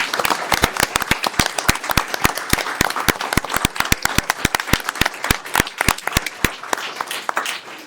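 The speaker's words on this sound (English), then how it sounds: "Round of applause." At a city council meeting in Gaithersburg, a room of people applauds with steady, scattered claps that thin out toward the end.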